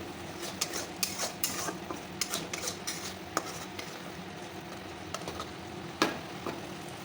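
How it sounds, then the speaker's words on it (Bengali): A utensil scraping and stirring spice paste frying in oil in a pan over a soft, steady sizzle, with irregular clinks and scrapes. "মশলাটা ভালো করে কষে আসলো দেখো মশলা থেকে তেল প্রায় ছেড়ে আসছে"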